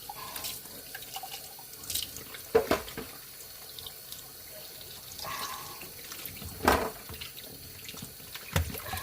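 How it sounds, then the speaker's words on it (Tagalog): Tap water runs into a sink while dishes are washed, with quiet trickling and occasional louder splashes and clinks from handling plates, no speech. "Masarap naman dito maghugas kasi maraming tubig."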